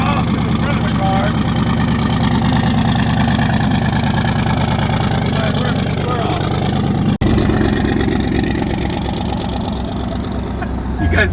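A loud, LS-swapped twin-turbo Mercedes E63 AMG rumbles with a deep, continuous engine and exhaust drone heard from inside the car, while someone talks over it throughout.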